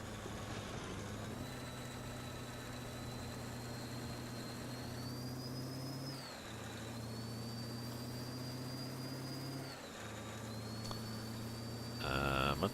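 A truck engine in Euro Truck Simulator 2 drones steadily with a high, piercing whistle on top that rises and settles as the gears shift, constant and close, ending in a brief burst of clatter.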